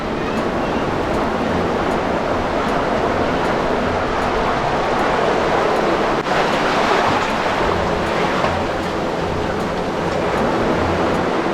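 Ocean waves break and wash continuously on a short beach by a hidden sea cave, a loud, steady roar with rushing surf and wind buffeting the microphone, no talking.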